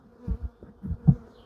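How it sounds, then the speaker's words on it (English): Honey bees buzz close around a microphone during a spring hive inspection while brood boxes are swapped, several loud near passes swelling and fading in uneven bursts. "They are bothering the microphone, so I'm sorry if you're getting buzzed out here."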